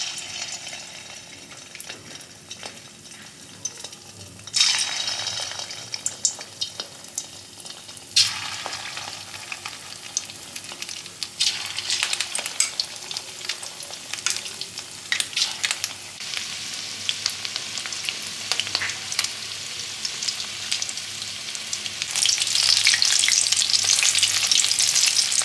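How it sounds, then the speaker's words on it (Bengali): Pieces of fish fry one after another in hot oil in a wok for a restaurant-style chilli fish, a steady broadband sizzle that jumps louder as each piece goes in and swells to a strong, dense crackle toward the end, with no talking. "এবার আমি মাছগুলোকে এক এক করে দিয়ে ফ্রাই করে নেব।"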